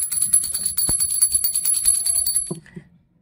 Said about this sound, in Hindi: सबसे पहले हम घंटी बजाते हैं,